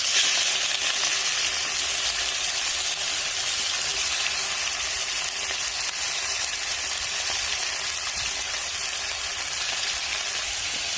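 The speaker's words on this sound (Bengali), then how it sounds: "পেঁয়াজ ভাজা হয়ে গেছে, তাই দিয়ে দিচ্ছি এর মধ্যে আমি মাংসটা" Meat pieces cut small sizzle and fry in a pan of fried onions, a steady loud hiss that holds evenly throughout with no talking.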